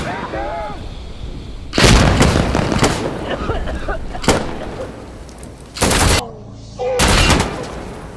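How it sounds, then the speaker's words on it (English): Grenade blasts and gunfire in the video game Insurgency Sandstorm: loud booming explosions and sharp shots in heavy bursts, with a shouted voice early on. "Throwing grenades! Stay back!"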